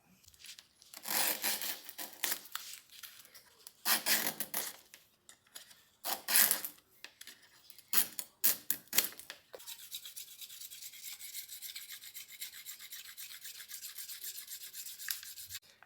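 Old fletchings are stripped from an arrow shaft with bursts of tearing and scraping, a few short rips followed by a continuous close, dry rubbing scrape.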